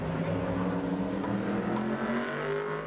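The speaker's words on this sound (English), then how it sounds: "And now here comes the team car, the starting park for the 83 of Tam Brown" Modified race car on the track at Bowman Gray Stadium during qualifying, its engine a loud, steady droning roar that stays close and constant, with a commentator talking over it.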